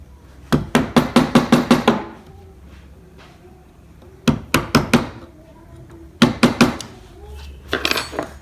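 A small gouge chisel is tapped into wood while carving an ornament, in three close bursts of quick, sharp knocks separated by quieter pauses.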